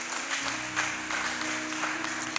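A church congregation claps together, a dense, steady patter of applause filling the room at moderate volume.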